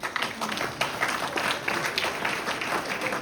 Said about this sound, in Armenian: դե ծափ տվեք։